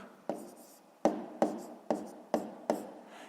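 A pen or pencil writes numbers on paper during a fifth-grade arithmetic exercise: six sharp, close scratching strokes, each fading quickly, spaced about half a second apart.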